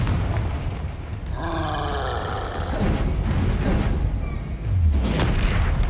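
A Confringo fire-spell blast in the video game Hogwarts Legacy, a booming burst with a roaring rumble that swells and fades over a few seconds amid continuous game sound effects.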